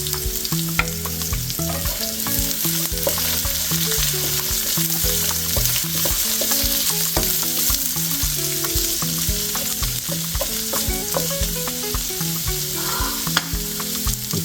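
Vegetables for a spaghetti stir fry fry and sizzle steadily in a pan on the stove, a loud close crackle with repeated scraping stirs throughout and no talking.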